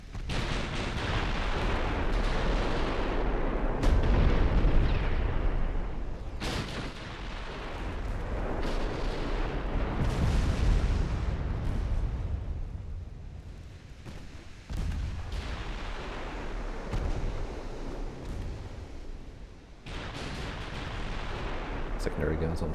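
Battlecruiser guns firing in the naval video game Ultimate Admiral Dreadnoughts, heavy repeated booming salvos with rumbling, explosive blasts spread across the clip, loud and continuous.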